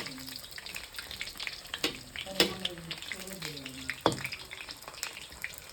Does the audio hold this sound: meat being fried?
yes